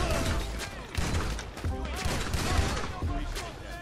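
Bursts of shotgun fire in GTA V crack out repeatedly over a busy, cluttered mix of game effects during a gang war, with a voice talking now and then.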